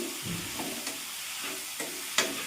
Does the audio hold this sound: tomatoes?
yes